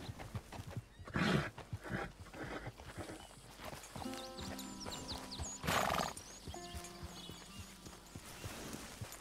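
Horses in Red Dead Redemption 2 whinny and neigh over steady clip-clopping hooves, with a loud neigh early on and another burst later, alongside game music and ambient sounds.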